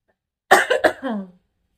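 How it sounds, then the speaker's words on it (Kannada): A short burst of harsh coughing, about three quick hacks followed by a rougher wheezy tail, close and fairly loud, with no other sound. "ಕೆಮ್ಮು ಕಫ ಅನ್ನ ಇದೆ"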